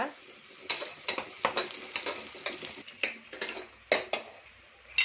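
Two onions roasting in a pan for egg biryani, a quiet sizzle under a steady rhythm of metal spoon strokes scraping and clinking against the pan, close and fairly soft.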